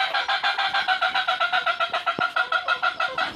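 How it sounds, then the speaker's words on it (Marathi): A flock of chickens clucks in a fast, steady, close chorus of rhythmic calls as they are fed fresh leaves, with a faint thump partway through. "कोंबड्यांना ह्या प्रकारे द्यायचे"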